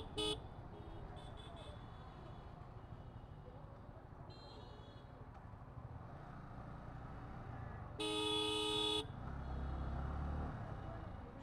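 Vehicle horns honk in busy Narsingdi street traffic crowded with battery-powered auto-rickshaws. Several short toots are followed by one loud, sustained blast, all over a constant, fairly faint traffic hum.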